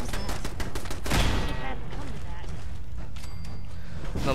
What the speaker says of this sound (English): Oh yeah, of course, the turrets.